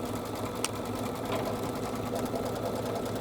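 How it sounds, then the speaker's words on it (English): An OESD-style embroidery machine stitches the outer outline of a reverse-appliqué notebook cover, a steady close mechanical whir with a brief click partway through. "I'm going to let this go ahead and stitch the outer boundary of the notebook."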